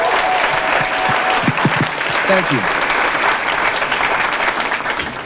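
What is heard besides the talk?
audience applause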